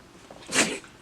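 A single short sneeze, close and fairly soft, rising quickly and fading within a fraction of a second against a quiet background.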